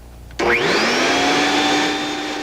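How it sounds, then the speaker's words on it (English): A household vacuum cleaner in a rural northern Idaho home in 1986 switches on abruptly, its motor rising to a loud, steady whine that holds unbroken to the end. "a vacuum cleaner"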